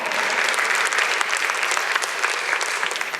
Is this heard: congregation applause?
yes